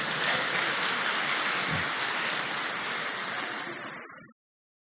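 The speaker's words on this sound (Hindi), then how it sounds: "अब आप ताली बजा सकते हो" An audience claps together in a steady, dense burst of applause that carries on for about four seconds and then stops abruptly, with no talking over it.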